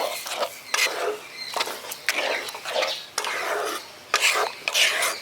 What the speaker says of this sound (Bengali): চিনিটা দিয়ে ভালো করে মিশিয়ে দিচ্ছি।